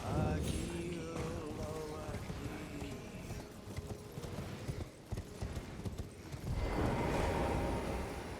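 Torrent, the spirit horse in Elden Ring, gallops with rhythmic hoofbeats under game music and combat noise, fairly faint, while a person talks over it.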